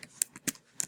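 Computer keyboard typing while entering a spelling list into a learning website, with three or four separate clicky keystrokes spaced irregularly, close and fairly quiet.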